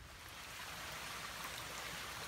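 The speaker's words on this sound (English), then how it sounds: "There is a pretty little creek here" A small creek on the Appalachian Trail near Keffer Oak flows steadily, a constant close hiss of running water with no pauses or voices.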